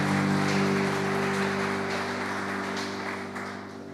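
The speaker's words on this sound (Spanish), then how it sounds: "Dale un fuerte aplauso al Señor." A church congregation applauds during a worship service, a broad, steady clapping wash over a sustained musical hum that fades slightly toward the end.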